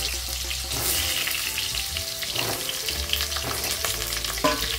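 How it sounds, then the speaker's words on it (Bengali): Potatoes frying in a pan with salt and turmeric, a steady close sizzle and crackle of oil with occasional stirring scrapes, continuous and moderately loud, no voices. "তো আলুটা আমি লাল করে ভেজে নেব, লবণ হলুদ দিয়ে ভেজে নেব।"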